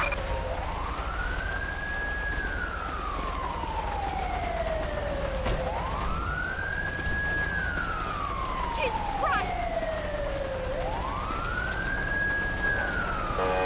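Ambulance siren in the video game GTA V, a steady wail sweeping slowly up and down in long repeating cycles, loud and continuous over a low engine and road rumble.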